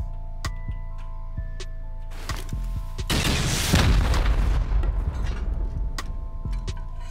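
Grenade launcher rounds exploding in a video game, a loud booming blast with a rumbling tail, set among sharp ticking clicks and pops from the game.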